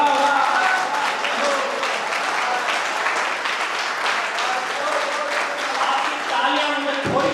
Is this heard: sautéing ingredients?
no